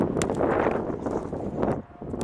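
Gusty wind buffets the microphone high up in a white pine during a tree climb, rough rumbling bursts rising and easing, with a rustle of branches mixed in.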